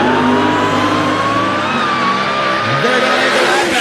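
A funny car roars down the strip at Great Lakes Dragaway during Saturday eliminations, loud engine howl with rising and falling pitch and a brief tire-skid chirp, continuous over a few seconds.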